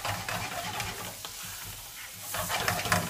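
Butter, mushrooms and bacon sizzle in a frying pan with a dense, close, continuous crackle that swells slightly toward the end.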